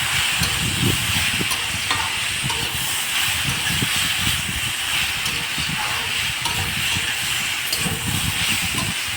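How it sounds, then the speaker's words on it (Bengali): Mixed vegetables sauté in a hot pan for a Bengali ghonto, a loud, steady sizzle and hiss running throughout with occasional scraping stirs underneath. "এটাকে ভালো করে কষিয়ে নিয়েছি।"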